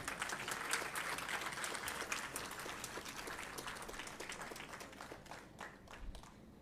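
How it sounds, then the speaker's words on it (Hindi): Sustained audience clapping at a student parliament gathering in Ahmedabad, a dense crackle of many hands that holds steady and then gradually thins out, heard faintly at a distance with no voices. "अभी आप तालियां बजाकर एक बार किरण जी का फिर से स्वागत करें।"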